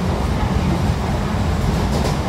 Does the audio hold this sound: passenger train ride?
yes